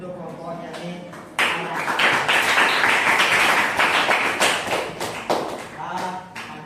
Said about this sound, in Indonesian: Semua tepuk tangan untuk kelompoknya nih.